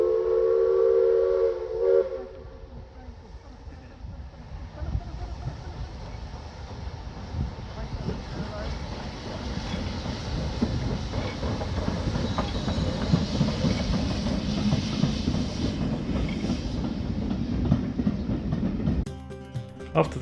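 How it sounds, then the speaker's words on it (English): The Jacobite steam train leaving Fort William sounds its whistle briefly at the start, then rumbles and clatters past steadily for a long stretch, a continuous mid-distance roar with rhythmic clicks. "the Jacobite steam train was just heading out from Fort William"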